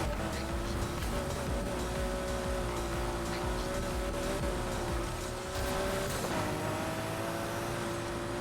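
A car engine in a racing video game drones steadily with a strong, continuous tonal whine that holds nearly level for the whole stretch and shifts slightly near the end.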